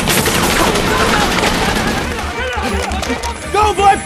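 Intense battle gunfire from a war film scene set in Somalia, with dense overlapping rifle and machine-gun bursts that later turn into separate sharp shots, loud and close, with shouting voices mixed in.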